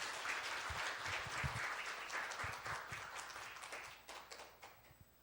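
A church congregation claps steadily at a Sunday morning Christmas service during a certificate presentation, the applause soft and distant, continuing for several seconds before tapering slightly.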